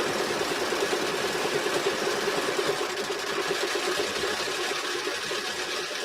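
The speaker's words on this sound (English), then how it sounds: "I'm just going to stitch it on." A sewing machine stitches an applique onto a t-shirt, its steady, fast motor hum and rapid needle rhythm running continuously and close by without pause.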